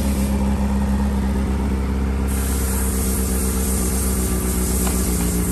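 A 2009 Honda Hornet 600 motorcycle idles close by, its engine giving a continuous, loud, steady drone as the revs settle lower, with no voices.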